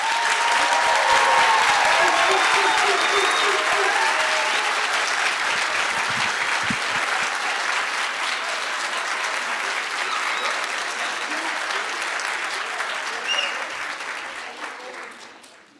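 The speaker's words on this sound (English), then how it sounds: "Please join me in a round of applause for the class of 2024." A long, loud round of applause for the pharmacy class of 2024 at a white coat ceremony, with a big crowd clapping steadily that slowly thins before trailing off at the end, a few voices audible beneath.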